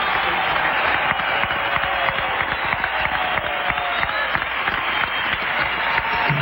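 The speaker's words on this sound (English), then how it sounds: "Listen to this crowd." A basketball arena crowd applauds and cheers loudly and steadily at halftime, a dense wash of clapping with no pauses.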